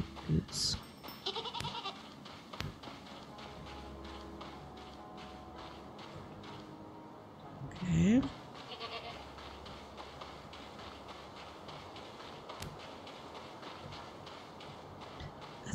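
A goat in the video game Reka gives a few short bleats, including one clear bleat near the middle, over soft ambient noise and light footstep-like taps, with speech nearby.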